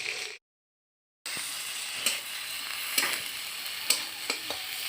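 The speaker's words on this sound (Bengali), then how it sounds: "মশলাটা কষিয়ে নি" Spice paste sautéing in a pan with a continuous hiss, broken by a brief silent gap near the start, then several sharp clinks and scrapes of stirring over the sizzle.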